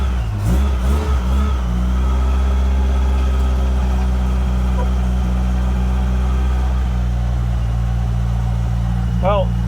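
A car engine in a hoard of old muscle cars and hot rods with a stuck clutch runs and revs, a low steady rumble with a brief rise early on; a voice speaks over it.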